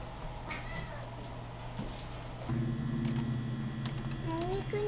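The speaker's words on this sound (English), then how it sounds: "every time we stop petting him and open the door, he meows." A male kitten meows several times indoors as people leave the room, the rising, drawn-out cries standing out near and clear over a low steady room hum.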